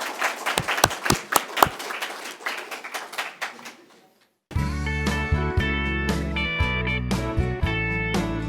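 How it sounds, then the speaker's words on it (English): An audience claps for contestants at a Fiesta Days royalty event, a few seconds of lively scattered applause that fades, then gives way to loud music. "let's give them one more round of applause"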